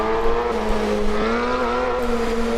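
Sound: tuned Honda Civic engine roaring in Assetto Corsa video game

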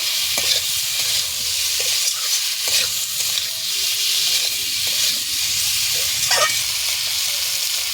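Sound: sautéing masala for egg and pea dal curry

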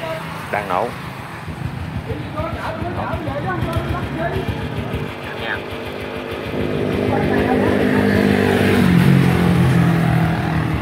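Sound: Honda Wave S 100 motorcycle engine idling

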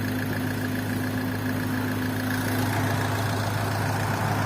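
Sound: car engine idling

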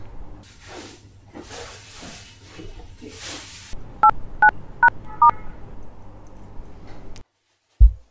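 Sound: telephone dialing tones

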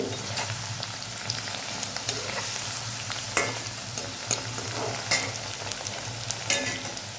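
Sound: okra sautéing in pan for spicy kuzhambu

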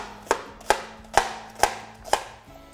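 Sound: chopping white onion with a knife

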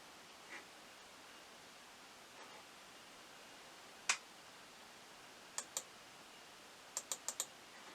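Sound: computer mouse clicking

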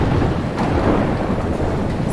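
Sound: rainstorm in a video game

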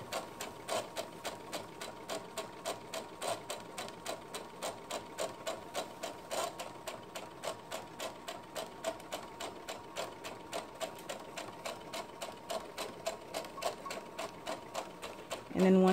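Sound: sewing machine stitching fabric seam

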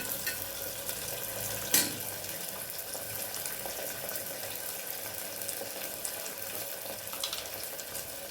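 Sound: fresh green peas being stirred and fried in oil

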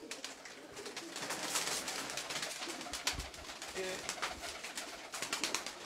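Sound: pigeons cooing

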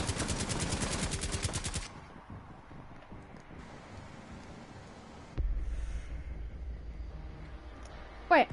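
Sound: gunfire in the video game Rainbow Six Siege

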